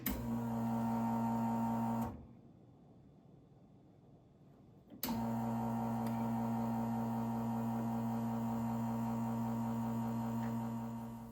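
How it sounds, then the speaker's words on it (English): Turin Gallatin R heat-exchanger espresso machine with a rotary pump, running as a steady, fairly quiet hum with a clear break in the middle before it resumes; no talking. "One of the best features is that rotary pump, and it does keep it quiet."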